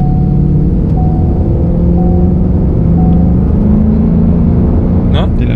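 A Ford Mustang GT 5.0 V8 is heard from inside, a loud, steady low engine rumble with rising and falling harmonic tones as the throttle shifts, close and continuous throughout.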